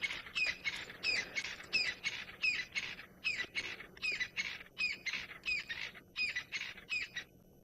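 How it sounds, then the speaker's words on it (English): A crested francolin gives its evening call in the South African bush, a rapid series of harsh, rhythmic squawking phrases repeated steadily, fairly distant and clear against a quiet background. "Now, that bird is a crested francolin."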